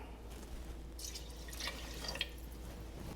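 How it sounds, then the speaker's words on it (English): Faint trickling and splashing of water being poured from a can into a pot, soft and close, with a few brief louder splashes. "So I just added a half a can of water in with that."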